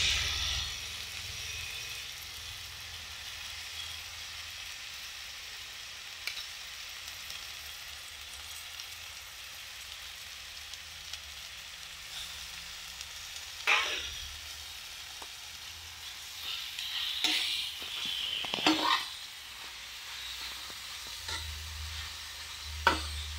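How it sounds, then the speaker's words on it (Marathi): Washed drumstick (moringa) leaves sizzling in a pan, a soft steady hiss with occasional stirring scrapes and clinks of a spoon in the second half. "यामध्ये आता आपण ही स्वच्छ धुतलेली शेवग्याची पानं टाकणार आहोत"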